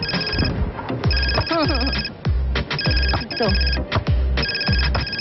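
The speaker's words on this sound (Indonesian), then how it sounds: "Bentar ya, ini ada telepon." Mobile phone ringing with a loud, bright electronic ringtone, its melody repeating in quick bursts with short gaps throughout, while a voice speaks briefly underneath.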